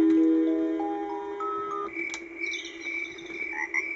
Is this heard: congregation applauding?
no